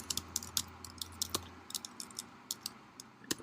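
Fingers tap out a short burst of typing on a computer keyboard, crisp key clicks in an uneven rhythm with a soft steady hum beneath, close and fairly quiet.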